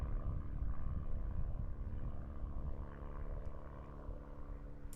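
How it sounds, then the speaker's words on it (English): A Pitts aerobatic biplane with a 200 hp Lycoming engine drones at a distance during an aerobatics championship, a steady low rumble with no talking. "And this is Tom in his new Pitts GMAG. Lovely machine. Sounds very good. I think it's a 200 horsepower Lycoming"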